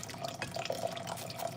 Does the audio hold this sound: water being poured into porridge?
yes